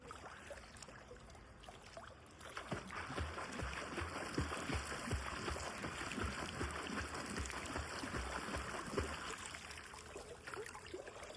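Swimmer's kicks churning and splashing water during a learn-to-swim lesson, a steady run of close, moderately loud splashes starting after a quieter opening and continuing for several seconds.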